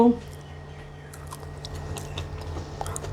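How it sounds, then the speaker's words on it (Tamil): Crunchy onion vada, a fried lentil fritter with ginger and fennel, being chewed near the microphone: soft irregular crunches and bites that grow busier toward the end, over a low steady hum. "வடை நல்லா மொறு மொறும் சவுண்டு கேட்குதா"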